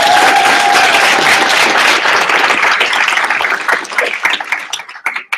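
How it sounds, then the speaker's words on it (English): An orientation audience bursts into loud, dense applause for staff members as each is introduced, clapping that holds strong and then thins into scattered claps before fading out. "Let's cheer for each as I call their name and ask them to stand if they were your internship advisor"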